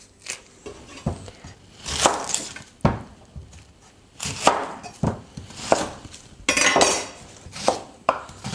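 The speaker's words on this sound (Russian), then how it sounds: "Мелко нарезаем лук," A knife finely chops onion on a cutting board, sharp close knocks in uneven bursts with brief pauses between runs.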